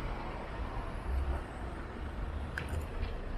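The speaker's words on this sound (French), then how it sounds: "c'est une voiture, ça c'est pas un vélo" A car moving along a city street, a low steady engine and road rumble with general traffic noise behind it, moderately close, with a faint brief squeak near the end and no talking.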